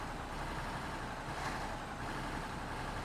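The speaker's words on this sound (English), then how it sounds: "The engine's running." In a video game, an off-road vehicle's engine runs in a steady, unbroken hum for a few seconds, fairly quiet and with no voices.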